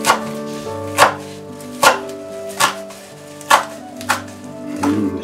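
Freshly picked herbs are chopped coarsely on a board with about seven distinct, evenly spaced knife thuds, close and clear above a faint steady background hum.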